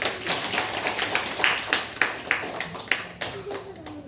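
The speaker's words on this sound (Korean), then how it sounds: "우리 말씀 전하신 우리 목사님께 우리 박수로 영광을 드리겠습니다" A church congregation clapping after a sermon, fairly faint scattered claps with a loose rhythm and a few sharper hits, with a voice speaking over them.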